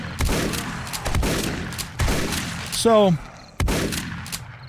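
A SPAS-12 shotgun in 7 Days to Die fires four heavy booming shots, each with a decaying tail, spaced about a second apart, with a short rising creature screech between the last two and brief speech.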